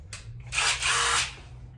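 A power drill in a shop whirs in two close bursts, a brief spin-up followed by a longer, louder high-pitched run that stops abruptly.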